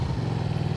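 Steady engine drone from a Comet GTR 250 motorcycle being ridden, a continuous close, even hum with a strong low rumble and no voices.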